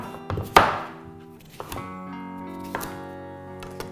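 A knife slices through a Crown Prince pumpkin on a board: a sharp crunching chop, then several lighter taps and thunks with ringing tones in between, close and distinct against quiet.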